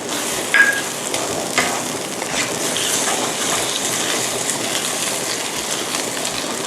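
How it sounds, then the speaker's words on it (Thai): Onion and tomato stir-frying in a pan for American fried rice, a steady broad sizzle with a few soft stirring scrapes early on, close and moderately loud, no talking. "ผัดทุกอย่างนะคะ ให้เข้ากันแล้วก็ ให้หอมใหญ่เริ่มที่จะ ใส่ขึ้นด้วยนะคะ"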